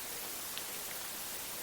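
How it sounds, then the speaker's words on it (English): Steady hiss of white-noise static buzzing from a telephone speaker, even and unbroken throughout, faint and alone. "A buzz of white noise came from the speaker."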